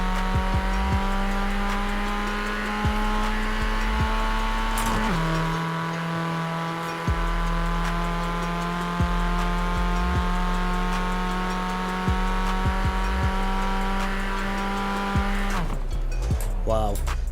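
Vauxhall Corsa VXR with a 202 horsepower engine in Forza Horizon 4, revving steadily and straining under acceleration, a gear change around five seconds in, loud and continuous with a voice talking over it.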